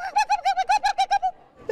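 A person imitates a turkey gobble, nine quick rapid warbling vocal bursts in a fast rhythmic string, loud and close, followed by a brief pause.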